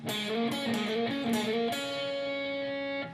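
Distorted electric guitar plays the opening riff of a song at full speed, a quick run of picked notes ending on a held, ringing chord that fades out, close and alone.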